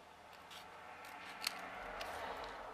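Quiet snipping of scissors cutting fabric tags, a few soft crisp snips close by against a faint background hiss.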